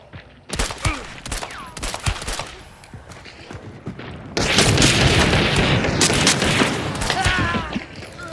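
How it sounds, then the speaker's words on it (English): Video game gunfire, with scattered sharp shots and booms that give way to a dense, continuous fusillade of rapid fire, loud and close. "Is that a gunshot?"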